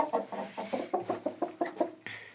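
Farmyard hens clucking near the microphone in a steady series of short, rhythmic calls, about ten in a row, fairly quiet, with no one talking.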